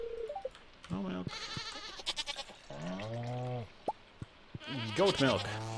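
Goats bleating in a Stardew Valley barn, several distinct wavering bleats at close range, separated by short gaps and soft plopping sounds.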